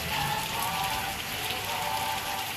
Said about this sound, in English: Thank you for the rain.